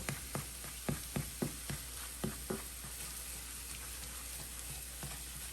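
Chorizo fries in grease on a cooktop, giving a steady close sizzle with a string of soft taps and scrapes of stirring in the first half, then a plain continuous sizzle.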